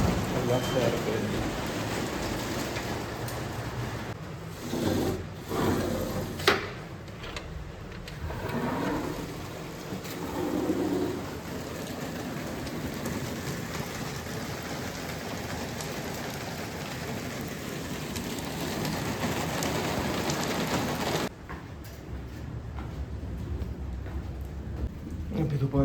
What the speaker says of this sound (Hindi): तेज़ तूफ़ानी बारिश हो रही है